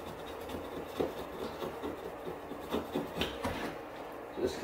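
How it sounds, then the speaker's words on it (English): Old sealant being scraped off a 2008 Ram third brake light area with a plastic razor blade, heard as soft, close rasping strokes in an uneven rhythm with no one talking. "I'm actually going to try and scrape some of this old seal off here before I get anything on there."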